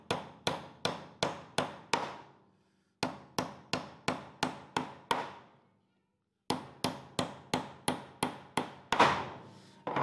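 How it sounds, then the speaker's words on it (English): Nails are driven into a rustic wooden box with a hammer: three runs of sharp, evenly paced blows, six to eight strikes each, separated by short pauses. The hits are close and loud, with a woody knock and no talking. "Now we'll go ahead and drive them in."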